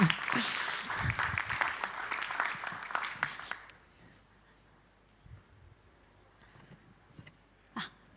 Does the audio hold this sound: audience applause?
yes